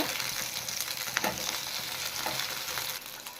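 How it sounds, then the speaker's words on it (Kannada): Tomato frying in a pan for village-style mutton sambar: a continuous close sizzle with occasional stirring scrapes, moderately quiet and steady throughout. "ಇದನ್ನು ಚೆನ್ನಾಗಿ ಫ್ರೈ ಆದಮೇಲೆ ಒಂದು ಅರ್ಧ ಟೊಮೊಟೊನ ಕಟ್ ಮಾಡಿ ಸೇರಿಸ್ಕೊತಾ ಇದ್ದೀನಿ"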